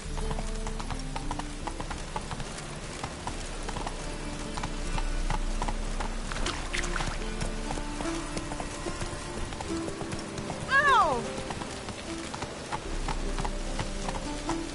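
Roach the horse gallops in The Witcher 3, a steady run of hoofbeat clip-clops carrying through over game music, with a brief whinny-like rise near the end.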